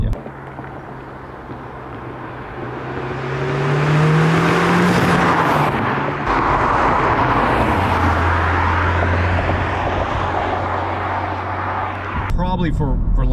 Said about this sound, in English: you have to really wind the motor up